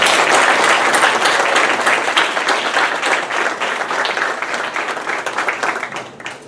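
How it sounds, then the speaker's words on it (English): An audience at a graduation celebration for a manufacturing technician program applauds the standing graduates, a loud, sustained wash of clapping that gradually tapers off toward the end. "We'll give you another round of applause."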